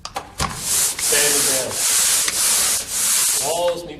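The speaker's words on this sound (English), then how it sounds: "What you need to do is take sandpaper or sanding pole," Sandpaper or a sanding pole scrubs across an interior wall being prepared for wallpaper, producing repeated close, hissing rasping strokes with short pauses between passes.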